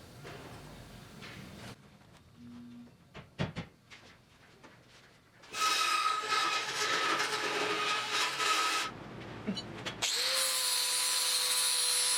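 Power-tool cutting on the sheet-metal rear deck of a 1974 Triumph TR6 under restoration: a few quiet knocks, then a loud, sustained grinding whine lasting about three seconds and a second steady burst after a short pause.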